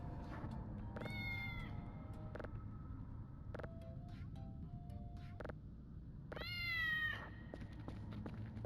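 A cat meows in short, high repeated calls, several spaced bursts heard faintly over steady background music.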